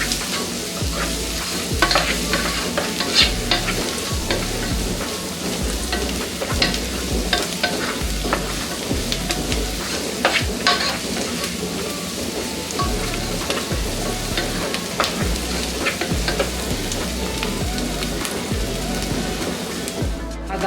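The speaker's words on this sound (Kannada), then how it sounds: "ಇದನ್ನು ಕೂಡ ಮಿಕ್ಸ್ ಮಾಡಿಕೊಂಡು ಹಸಿ ಘಾಟು ಹೋಗೋ ತನಕ ಇದನ್ನು ಫ್ರೈ ಮಾಡ್ಕೊಳ್ಳೋಣ." Dal mixture frying in a pan, cooked until the raw smell goes, gives a steady, loud sizzle that runs throughout, with frequent scraping stirs and small crackling pops and no talking.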